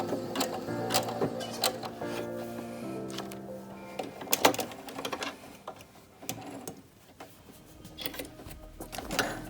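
A home sewing machine stitches close to the edge of a fabric face mask in short bursts of rapid mechanical whirring, with pauses, clicks and handling noises between runs.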